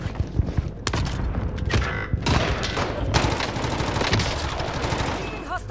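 Dense, sustained automatic gunfire from hostile fighters in a shooter video game, rapid overlapping bursts filling the whole stretch with sharp cracks and booms, loud and close.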